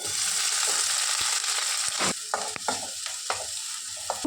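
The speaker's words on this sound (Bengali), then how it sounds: "এবার আমি পেঁয়াজ কুচিটা দিয়ে দেবো তেলে" Chopped onion sizzling in hot oil with garlic and cumin, a constant hiss broken by clicking and scraping stirring strokes, close and uninterrupted by speech.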